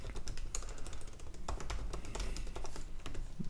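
Rapid keystrokes on a computer keyboard as an email address and password are entered, a dense, steady run of close, crisp clicks with no talk.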